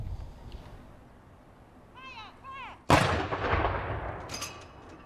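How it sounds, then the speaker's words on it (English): A ceremonial gun salute at Windsor Castle booms once loudly and echoes away, preceded by faint bird calls in a quiet outdoor setting. "At 3 o'clock, the gun salute could be heard beyond the castle walls."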